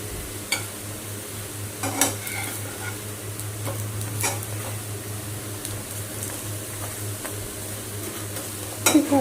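Small fish fritters, made from rohu fish, fry in a shallow layer of oil with a steady soft sizzle, joined by occasional clinks and scrapes of a spatula against the pan.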